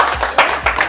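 Brief burst of audience clapping for a participant at a motivational talk, a few loud, close rhythmic claps over a murmuring room, lasting about a second.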